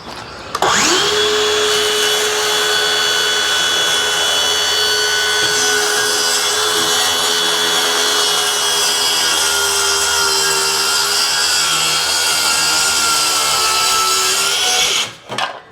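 A power saw fitted with a 6.5-inch, 18-tooth blade cuts through wood: the motor spins up with a rising whine, holds a loud steady cutting drone for about fourteen seconds, then winds down.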